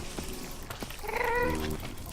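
Wither cats in modded Minecraft let out a few short, whiny meows, the clearest a drawn-out wavering cry in the middle, loud and close with no talking.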